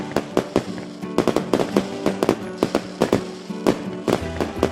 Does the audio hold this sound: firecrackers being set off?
yes